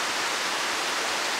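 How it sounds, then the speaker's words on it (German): Steady broadband rush of a river flowing below a forest path near Rottachsee, Oy-Mittelberg in Bavaria, heard from above as continuous even water noise with no talk. "auf jeden Fall da unten ist ein Fluss."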